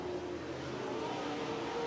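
Late model race cars running on the dirt oval at Belle-Clair Speedway, a steady distant engine drone with revving pitch shifts, moderately faint and continuous.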